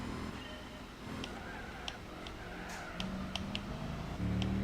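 Le Mans prototype race car engine in the video game Gran Turismo 4, a steady low drone with shifting pitch and a few brief high clicks, loud and continuous throughout.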